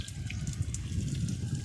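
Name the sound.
water poured onto a garden plant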